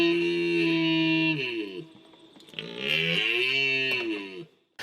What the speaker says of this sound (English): Male red deer will roar to show off how big they are.